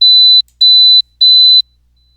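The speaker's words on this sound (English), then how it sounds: "we will play three sounds or three tones, A, B, and C." Three short, pure high-pitched test tones sound one after another, each lasting under half a second, separated by brief silences and sounding clean and steady in a pitch discrimination test.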